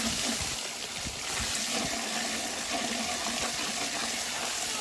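Water from a garden hose pours steadily into a container while mixing comfrey fertilizer, a continuous rushing gush with slight bubbling, fairly quiet and close, with no talking.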